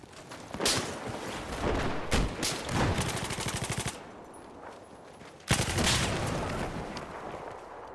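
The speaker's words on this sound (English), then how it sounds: "I thought I heard a sniper rifle." Sniper rifle shots crack in a competitive match of a shooter video game, several sharp, fairly loud reports spaced a second or two apart among bursts of rapid gunfire, with a strong shot near the end.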